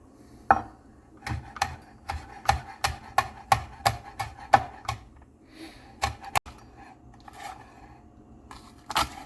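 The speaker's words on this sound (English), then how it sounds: "I'm going to julienne it and then chop it up finely and throw it in there" A knife chopping a serrano pepper finely on a cutting board: a run of about a dozen crisp, evenly spaced taps, then a few scattered cuts, close up with no talk.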